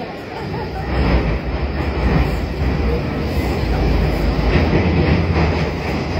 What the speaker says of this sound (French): ça c'est le métro de Londres